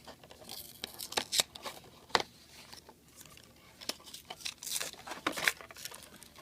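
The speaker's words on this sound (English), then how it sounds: "you just gotta peel off the paper" Paper wrapping peeled and torn off a Shopkins toy package: a series of short, sharp ripping and crinkling bursts, close and fairly loud, with quiet gaps between tears and no talking.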